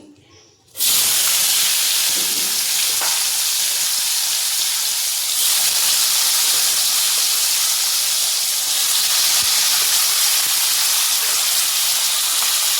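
Oil in a kadai with salt and turmeric added, bursting into a loud, steady sizzling hiss that starts abruptly after a quiet moment and keeps going at full strength.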